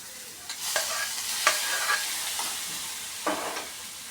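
Green gram hisses and sizzles in a hot pan while a spoon scrapes and stirs it several times, close and fairly loud, with no talking.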